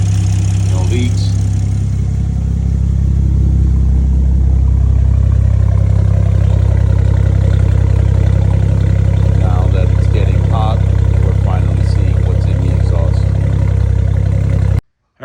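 Car engine fitted with a new Precision 6466 turbo big boost kit runs steadily at a loud, close idle with a low rumble and light clatter, with no talk over it.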